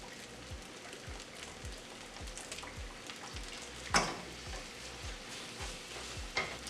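A vegan stir fry sizzles loudly in a hot pan with soy sauce added, steady crackling and spitting broken by rhythmic scraping stirs and one sharp splash near the middle.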